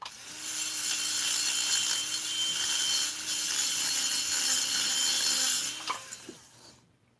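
A power tool grinds and re-bevels the edge of a 350 cylinder head during porting, making a steady close rasping whine for about six seconds. It then cuts off abruptly into a brief clatter and near silence.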